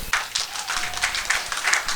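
Audience applause at the installation ceremony of the first president of Cameroon's Centre Regional Council, a dense continuous patter of many hands clapping at moderate distance.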